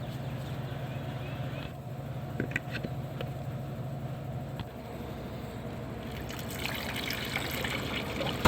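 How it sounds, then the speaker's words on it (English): Water filling the cooling system of a 2011-2015 Chevy Cruze 1.8L engine during a coolant flush, a steady close trickle with light splashing and a few small knocks throughout. "So we're just going to get it filled up with water now."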